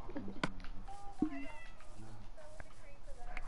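A Minecraft cat gives several short meows amid game sounds while people talk over it.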